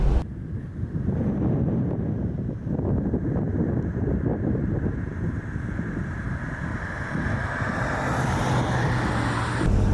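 A 1970 Mercedes 280 SE 3.5 Coupé drives with a steady, loud engine and road rumble, with wind buffeting the microphone throughout the run.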